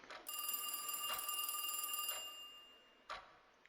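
A phone rings in the video game Satori's Love Counsel, a bright sustained electronic trill pulsing for about two seconds, then fading, with soft periodic clicks and a final tick against quiet background.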